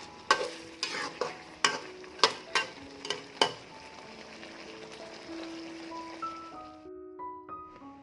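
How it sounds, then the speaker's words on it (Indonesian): A spatula scrapes and knocks a pan in a string of distinct strokes while chicken cooks in butter sauce with spring onions, close and crisp over a soft sizzle, followed by a light plucked melody. "Sebelum diangkat, kita taburi dulu dengan daun bawang. Aduk sebentar, lalu kita matikan api."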